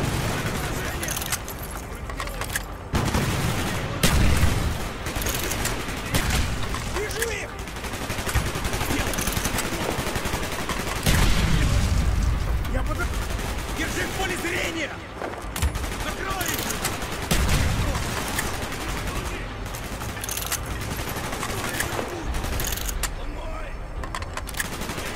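Sustained bursts of automatic gunfire and scattered shots in a Call of Duty: Black Ops battle, loud and continuous, with voices talking over the shooting.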